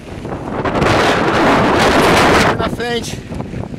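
Strong early-morning wind buffets the microphone in a loud, continuous roar that swells and fades, with someone speaking briefly near the end.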